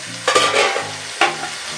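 Pumpkin leaves being stirred in a pan after a splash of water, a soft scraping stir with faint sizzling, two brief louder strokes standing out close by with no voices.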